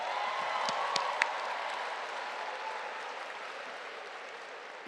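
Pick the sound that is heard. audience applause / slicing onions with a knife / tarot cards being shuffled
audience applause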